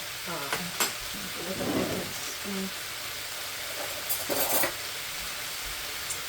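Chicken and vegetable stir-fry with soy sauce sizzling in a pan, with a steady frying hiss, scattered clatter of a utensil stirring against the pan, and brief bursts of louder sizzle; a voice speaks faintly at moments.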